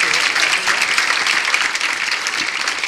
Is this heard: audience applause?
yes